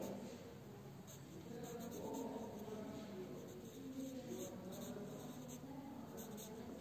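A pen scratches faint, steady handwriting as an answer is written on a board or notebook during a class 3 maths lesson, continuous under soft room noise.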